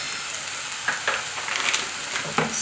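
A spoon stirs mushroom sauce thickened with corn flour in a hot pan, giving a steady sizzling hiss with soft scraping strokes every second or so, close and continuous without talking.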